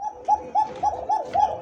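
A female pigeon coos in a repeated rhythmic series of soft, low calls, fairly close and clear against a quiet background with no talking.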